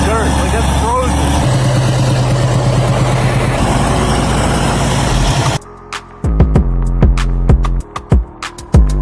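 A D355 bulldozer's engine runs loud and steady while its tracks spin on frozen ground and ice, then the sound cuts to choppier bursts of clanking and revving.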